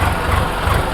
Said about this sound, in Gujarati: 10 થી 15 વચ્ચે રેસમાં હાંકવાનો હોય ટ્રેક્ટર.